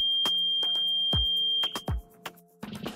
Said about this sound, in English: The buzzer will also sound a loud alert.